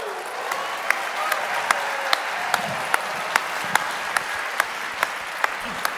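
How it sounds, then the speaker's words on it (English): A seated audience at a sales panel event gives a round of applause, continuous clapping at moderate volume with distinct sharp individual claps ringing out at a regular pace over the crowd. "A round of applause."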